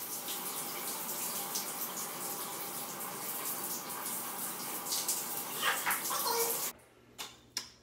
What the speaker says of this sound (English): I think it's time to shower.